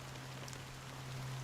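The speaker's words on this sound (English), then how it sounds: "How long has this rain been going on?" Steady patter of rain in the video game Honkai Star Rail, a soft even hiss running throughout with a low constant hum beneath, no talking.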